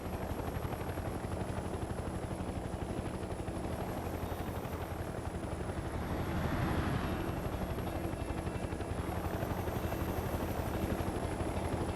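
Helicopter in the video game Mercenaries 2, a loud, continuous rotor thrum and engine roar holding steady throughout, with a brief swell in the middle and no talking.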